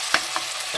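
Onions and green chilies sizzle steadily in a pan while being stirred, a constant frying hiss with a few soft scrapes of the spoon over it, close up and brief.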